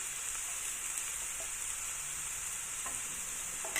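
Dried mushrooms and garlic fry in a hot pan with oil, a steady, bright sizzle that crackles continuously with no talking.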